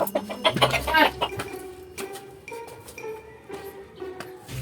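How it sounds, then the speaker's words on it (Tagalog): Chickens cluck and chirp in short irregular bursts, several birds close by, with faint clinking in the background. "Ito, manok pa rin. Daming manok ah."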